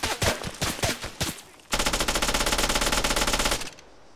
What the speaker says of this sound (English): Somebody shoot him.